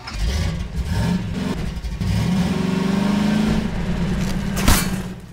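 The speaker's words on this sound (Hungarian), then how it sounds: "Buggy hangja van." A buggy engine in the video game Hunt Down The Freeman drones steadily at mid pitch, swelling slightly as it accelerates, with a sharp impact near the end and no speech.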